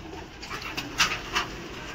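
Soft cooing and fluttering of pigeons indoors in a shop full of pigeons, with a few brief louder bird calls rising over a quiet, airy background.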